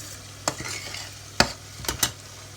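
Carrot and gizzard fry in a pan for Nigerian fried rice while a utensil stirs them, four sharp scraping clacks over a steady close sizzle.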